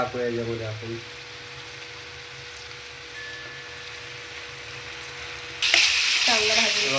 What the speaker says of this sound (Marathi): मसाला मस्त भाजून झाला आहे छानपैकी